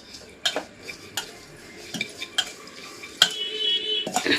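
A spoon stirs mushroom tikka masala with oil, giving scattered clinks and scrapes against the pot with a soft hiss underneath, close and fairly quiet.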